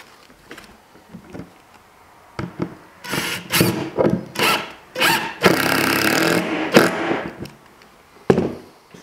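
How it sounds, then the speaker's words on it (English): Screws being driven into plywood and structural wood during a composting toilet build come as a series of loud, close whirring bursts of several seconds each, with short pauses between them. "So just start putting screws in."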